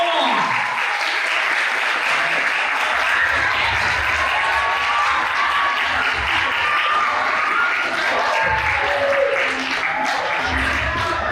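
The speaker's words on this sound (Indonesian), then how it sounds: "Sekali lagi kita beri tepuk tangan yang meriah untuk Cantico Maria Virginis" At a school awards and closing ceremony, an audience gives sustained, enthusiastic applause for the Cantico Maria Virginis choir of SMP Katolik Santa Maria Surabaya. The dense clapping is steady throughout, with faint voices underneath.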